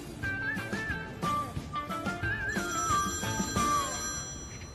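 A telephone rings in a repeating electronic ringtone, short warbling tone bursts in a steady rhythm, fairly loud and close, with background music or room sound underneath.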